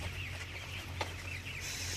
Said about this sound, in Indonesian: dimana ayam broiler atau yang biasa kita sebut ayam berdaging ini